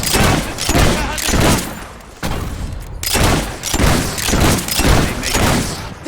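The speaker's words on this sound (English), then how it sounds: "We're taking fire!" Gunfire during a castle assault in the video game Fable 3: loud, dense bursts of shots and booming impacts roll continuously, with shouting voices in the battle mix.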